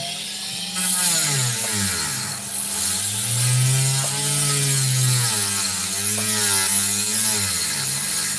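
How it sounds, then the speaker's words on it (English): A Dremel rotary tool cutting opal, a steady high-pitched whine that rises and falls in pitch as the load changes, running loud and close for the whole stretch with no talking. "My poor Dremel."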